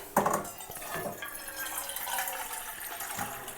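Water being poured into a vessel to make hot water in a home kitchen, a continuous splashing, gurgling stream with a few brief louder splashes, close by.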